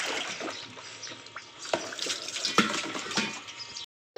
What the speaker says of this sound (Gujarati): પાણી ભરવાનું ચાલુ થઈ ગયું છે